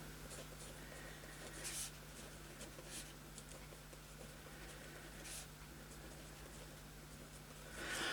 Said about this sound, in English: can't talk and write at the same time